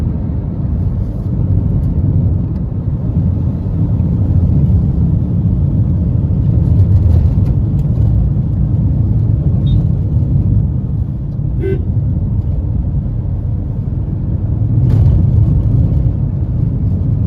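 A car cruising along a highway in India, the Hili–Balurghat road NH 512 between Kolkata and Balurghat, with steady loud road and engine rumble throughout and a few faint horn toots in the distance.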